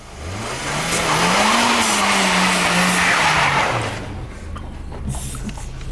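A BMW E36 with traction control off revs hard while drifting, engine note rising and falling with a loud tire squeal for several seconds before dropping to a rougher idle-like rumble.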